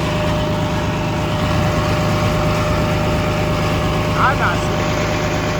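Engine of a used Cat D4C bulldozer running steadily at idle, a loud continuous low rumble close by with someone talking briefly over it.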